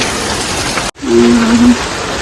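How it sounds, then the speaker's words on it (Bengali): Heavy rain falls in a continuous, even hiss, briefly interrupted, and then a cow's low moo sounds nearby over the downpour. "বৃষ্টি হচ্ছে অনাবরত বৃষ্টি হচ্ছে"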